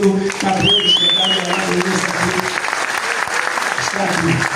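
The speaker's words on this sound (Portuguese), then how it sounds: "eu gostaria de pedir uma salva de palmas para o mestre Nildo" A crowd at a celebration of seventy years of capoeira bursts into dense, loud applause welcoming a capoeira master, with voices calling out and a whistle rising over the clapping.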